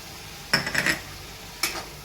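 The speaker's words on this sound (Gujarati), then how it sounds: "તો આ બધા મસાલાને આપણે આ રીતે મિક્સ કરી લઈશું।" A spoon scrapes and clinks through spices in a pan of vaseti bhaji, two short stirring bursts, close and clear, with nobody talking.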